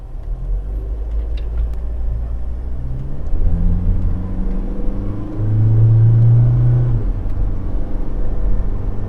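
A car after an eBox Mobile V3 install, accelerating at full throttle from a corner, heard from inside as a low rumbling engine with a rising, droning note that grows louder toward the end, no talk.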